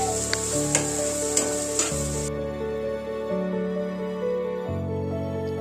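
Onions frying in a pan with salt, turmeric and curry leaves give a bright sizzle with a few sharp crackles early on. A steady tonal background plays underneath and there is no talking.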